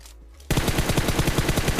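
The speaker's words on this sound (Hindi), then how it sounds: "भाई सामने फायरिंग चल रही है" Loud, rapid automatic gunfire from a PUBG Mobile battle bursts in after a brief quiet moment and keeps rattling in a steady, dense rhythm to the end.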